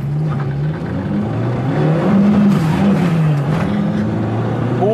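A Lada 2108 car accelerates from inside the cabin, its engine note climbing and wavering steadily with a loud, continuous drone and road noise, no voices heard.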